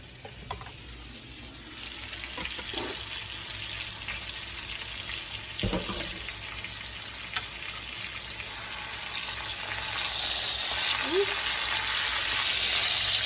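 A pot roast sears in a pan, a steady close sizzle and crackle that grows louder toward the end, with a few knocks and clatters along the way.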